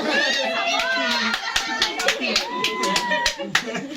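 Several people clapping their hands in sharp, irregular bursts among excited children's voices, claps close and crisp, mixed with lively chatter throughout.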